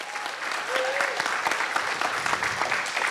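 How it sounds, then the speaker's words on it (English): Conference audience applauds the guests with steady, close, full clapping throughout, and a brief voice rises above the crowd. "a big round of applause for our guests in this episode"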